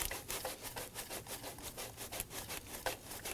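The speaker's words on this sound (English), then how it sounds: "Run that bolt in as far as you can by hand." A bolt is turned in by hand on a Volvo XC90 serpentine belt tensioner, making quiet, rhythmic rubbing and scraping of metal threads, repeated in short strokes close up.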